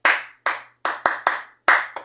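Audience clapping, heard as about six sharp, separate claps in an uneven rhythm, each with a ringing, echoing tail. They are loud and close with no talking over them.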